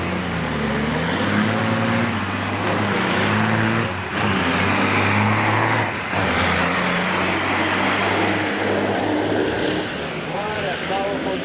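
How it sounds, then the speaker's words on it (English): A heavy big rig truck engine roars and strains continuously, shifting pitch as it climbs a hill during a race at Onaway Speedway, while a commentator talks excitedly over the din. "What a powerful truck going up the hill."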